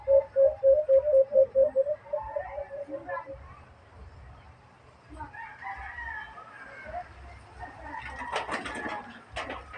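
A wild bird gives a quick series of repeated calls at the start, slightly hoarse, followed by scattered softer calls over rustling strong wind and distant noise.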